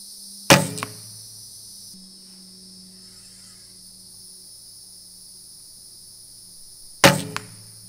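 A barebow fitted with a Hoyt barebow weight system is shot twice, each release a sharp, close snap with a brief ringing decay, about six seconds apart, over a quiet outdoor background with faint insect chirping.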